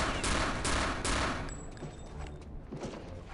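Dual guns in Return to Castle Wolfenstein fire a few sharp, loud bursts close up, followed by quieter scattered shots and lingering rattle as the volley trails off.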